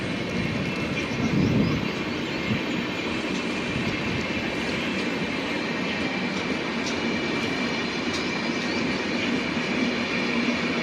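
A Jabalpur express train passes close by near Lushala, a loud continuous rumble of wagons with rhythmic clatter and faint wheel squeal running unbroken throughout.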